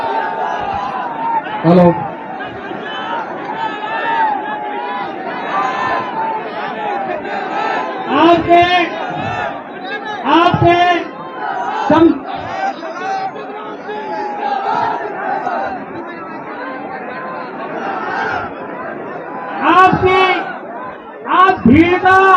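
A large political rally crowd on an open ground chants 'Jai Akhilesh' slogans, surging in loud bursts over steady crowd chatter, with someone talking over the noise.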